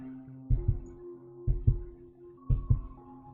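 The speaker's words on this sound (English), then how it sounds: "I gave you all a fake heartbeat, leave me alone." A fake heartbeat sound effect from the story game Choices: Stories You Play (Red Carpet Diaries) gives three slow, deep double thumps over a low humming drone, each lub-dub pair about a second apart.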